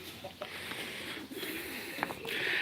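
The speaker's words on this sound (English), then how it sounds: "They get noisy the more I get closer. The chickens." Chickens cluck and chirp faintly at a distance over a steady outdoor background hiss, with a few short calls scattered throughout.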